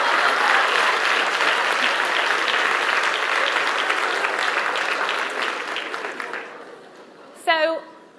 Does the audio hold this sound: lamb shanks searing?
no